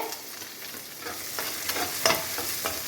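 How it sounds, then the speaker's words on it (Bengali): Potatoes fry with turmeric and green chili while a spoon stirs them in the pan, a soft steady sizzle broken by light scraping strokes. "ভালো করে নাড়াচাড়া করবো"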